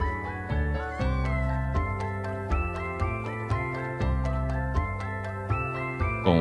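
A young cat about eight weeks old meows over and over in quick succession, short pitched cries that rise and fall, close and clear with no talking.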